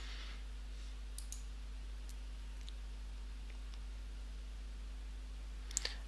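Faint computer mouse clicks, a few sparse ticks spread over several seconds and a sharper double click near the end, over a constant low hum.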